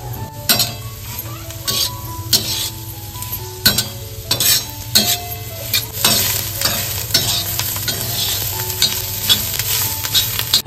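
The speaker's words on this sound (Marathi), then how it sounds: "कांदा, लसूण आणि अद्रक आपण सर्व एकत्रच इकडे फ्राय करतोय" Chopped onion, garlic and ginger frying together in oil in a pan, a steady close sizzle with repeated spatula scrapes and metallic clinks as they are stirred, loud and continuous, no voices.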